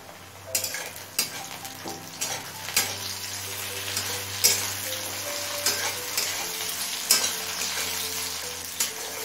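Four small chopped tomatoes frying on high heat in a pan with onions already browned, a steady sizzle broken by repeated scraping stirs and light clinks of a utensil against the pan.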